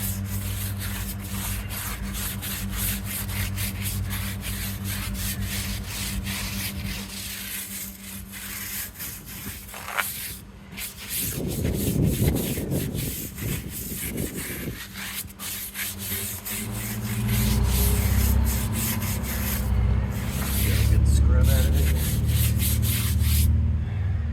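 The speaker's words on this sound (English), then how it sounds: "Don't want to let anything dry, so let's get right into scrubbing." Close, rhythmic rubbing and scrubbing of suds on an F-350 truck's surface during a wash, steady and fairly soft, with a louder, rougher stretch midway and heavier scrubbing toward the end.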